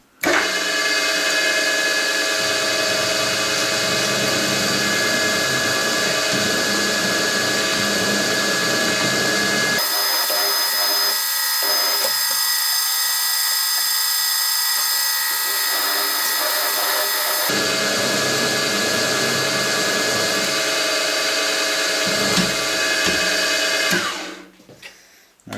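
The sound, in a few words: drilling holes in metal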